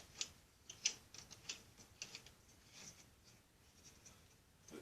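A wing nut is turned by hand to attach a mount to a telescope tripod, giving faint, quick metallic ticks and scrapes in an uneven rhythm, close and quiet, with no talk.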